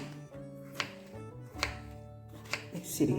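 A knife chops a tender cucumber into thick pieces on a board, four crisp close strikes spaced roughly evenly, with a faint tone in the background.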